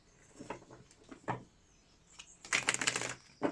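Tarot cards being shuffled by hand, soft scattered riffles and taps building to a denser, louder burst of card flutter near the end, close and without speech.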